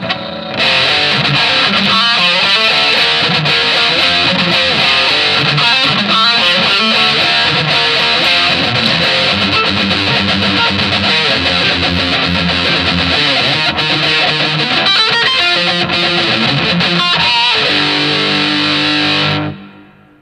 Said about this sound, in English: This one's called 90s Metal. Again, even more distortion.